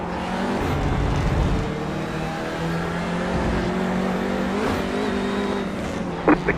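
A touring car engine in the iRacing sim roars steadily at high revs with shifting harmonic pitch, close and loud throughout, other cars faintly audible beneath, with a brief sharp burst near the end.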